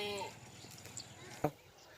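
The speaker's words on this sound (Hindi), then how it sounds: "ये बकरी आ रही है 2 बच्चों वाली, बहुत खूबसूरत है माशाल्लाह" A Rajanpuri goat, a doe with two kids, gives a short bleat near the start, followed by faint farmyard shuffling and a sharp knock, heard quietly on a farm in Dera Ghazi Khan.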